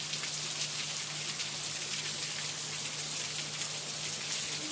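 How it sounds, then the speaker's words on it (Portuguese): Steady rain falls in a dense, even hiss of drops on surrounding surfaces, with a faint low hum underneath. "E tome chuva."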